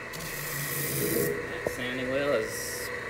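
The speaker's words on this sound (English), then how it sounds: "that rubber bar gets all the sawdust and all of the tar or sap out of the grain on the sandpaper" A rubber cleaning bar is pressed against a spinning disc sander's sanding wheel, giving a steady loud rasping rub over the running motor hum, with a brief pitch sweep as the bar scrapes along the abrasive.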